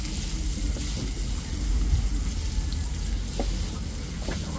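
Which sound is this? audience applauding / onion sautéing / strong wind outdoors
onion sautéing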